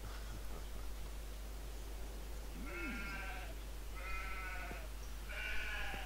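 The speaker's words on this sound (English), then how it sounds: "Shut up, sheep." Sheep in the SimGolf video game bleat three times in a row at even intervals over a constant hiss of background noise.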